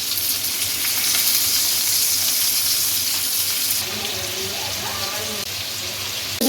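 Chicken pieces frying in oil in a pan for Afghani chicken karahi give a steady, loud hiss and crackle that runs the whole time, with a few softer clinks near the end.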